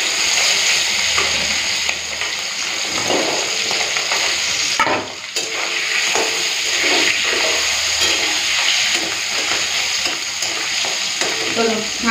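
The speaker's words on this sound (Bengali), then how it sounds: "চলো ট্যাংরা মাছগুলো দিয়ে দিই তেলের মধ্যে।" Tengra fish coated in mustard oil fry in hot oil with a loud, constant sizzle and bubbling spatter, punctuated by occasional pops and a brief dip in the noise partway through.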